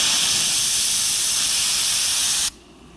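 Coarse sand roars through a blast cabinet's nozzle as a loud, steady hiss that runs for about two and a half seconds, then cuts off abruptly, leaving a faint residual air sound.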